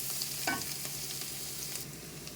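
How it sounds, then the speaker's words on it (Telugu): Sliced garlic and onions fry in a pan as they are stirred toward golden brown, a quiet, steady sizzle with a brief scraping stir near the start and soft clinks throughout. "ఇది వేసేసి బాగా కలిపేసి కొంచెం ఫ్రై అవనిద్దాము."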